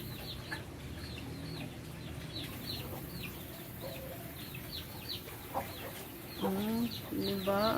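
Chickens clucking softly as a mother hen feeds her chicks, a quiet, steady stream of small clucks and peeps that grows into louder, clearer calls near the end.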